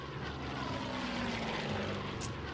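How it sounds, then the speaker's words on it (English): A propeller scout plane in the Hex of Steel strategic wargame drones steadily with a constant, fairly quiet engine hum and no talk over it. "Okay, get the scout plane over here to kind of see what's going on."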